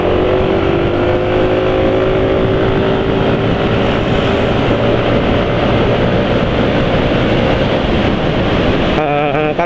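Motorcycle engine running on PAO and ester synthetic oil, a steady smooth idle with a continuous low hum and faint harmonic whine, close and unchanging before cutting off near the end.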